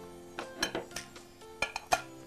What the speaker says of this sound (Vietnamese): hoặc là chúng ta dùng kéo và chúng ta bấm